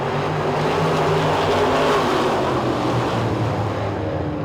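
Street stock cars on a quarter-mile short track roar off the fourth turn at the green flag, a loud, continuous wall of engine noise with a broad steady drone and no voices over it.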